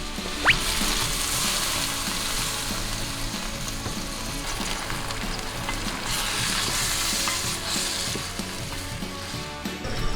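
Rubber seeds cook in a spiced, watery mixture in a pan, giving a steady, dense sizzle with scraping stirs running the whole time at close range.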